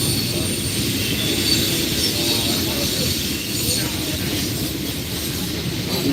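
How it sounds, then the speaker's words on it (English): A long train rolls past with a sustained rumble and high metallic wheel squeal, loud and continuous, steady throughout with no break. "He's waiting until the train passes"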